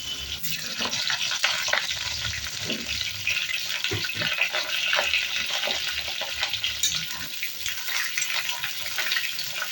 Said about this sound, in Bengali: তেল গরম হয়ে গেছে, এবার অল্প অল্প করে পটল ভেজে নেব।